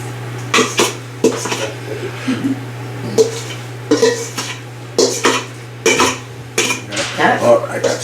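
A metal spoon scoops broccoli ham mac and cheese into a casserole pan, giving a steady run of close clinks and scrapes against cookware, with a low hum underneath and voices chatting softly between the knocks.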